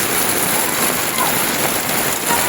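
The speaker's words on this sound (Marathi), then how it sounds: "पाऊस पाऊस म्हणजे भरपूर पाऊस" Heavy monsoon rain pouring down in the Konkan countryside, a loud, dense, unbroken roar of drops hitting surfaces close by.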